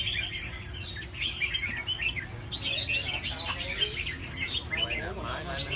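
Red-whiskered bulbuls chirp near a house, a dense flurry of bright overlapping calls from several birds close by, with people talking underneath.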